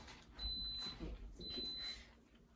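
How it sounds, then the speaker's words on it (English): A kitchen appliance gives two thin, high electronic beeps as it finishes cooking, each lasting about half a second. The beeps are fairly faint against a low room hum, and no one speaks over them. "Stop beeping."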